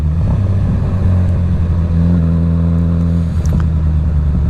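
A 2025 Suzuki GSX-S1000 motorcycle with a full Dominator exhaust idles with a deep, steady, throbbing rumble. It swells briefly into a slightly higher rev partway through, heard up close with no talking.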